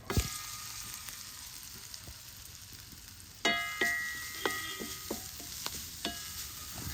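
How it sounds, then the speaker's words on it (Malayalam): Grated coconut fries in oil in a pan for a yam flower masala curry, a soft steady sizzle with intermittent clinks and scraping stirs, fairly quiet and close. "ഇനി കുറച്ച് എണ്ണ ഒഴിച്ചു കൊടുത്തിട്ട് തേങ്ങ ഒന്ന് വറുത്തെടുക്കാം."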